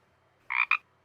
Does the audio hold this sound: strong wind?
no